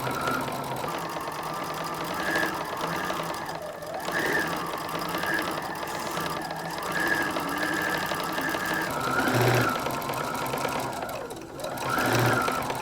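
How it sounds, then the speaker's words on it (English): A sewing machine runs steadily, stitching straight down the side seam of a fabric tote bag with a boxed bottom, its motor hum broken by short pauses and speed changes. "I'm just stitching straight down the one side."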